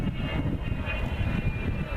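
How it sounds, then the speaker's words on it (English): Avro Vulcan B2 bomber at an RAF Fairford airshow, its Olympus jet engines giving a loud, sustained roar in a short burst during a steep pull-up, dense and continuous throughout. "a short burst on the Olympus engines there as he pulls up for that steep wing over"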